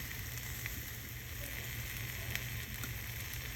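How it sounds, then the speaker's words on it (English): Apple halves cook inner side down in hot cooking oil in a pan over medium heat, alongside pork, giving a steady close sizzle that holds evenly throughout with faint crackles and no talk. "Begin cooking the apples inner side down, followed by the Brussels sprouts."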